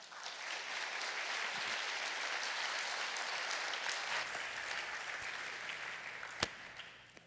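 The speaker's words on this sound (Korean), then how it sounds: "박수로 맞아 주시기 바랍니다" Congregation applause during a Sunday service at a Korean church welcoming a guest pastor, a steady, somewhat distant wash of clapping from many hands lasting several seconds, with a single sharp clap near the end.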